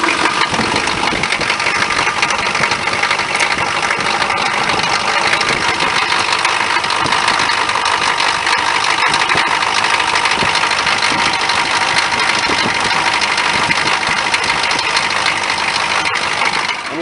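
A Chevrolet K5 Blazer engine idles steadily after a cold start, a loud, even rumble that holds unchanged for the whole stretch with no voices over it.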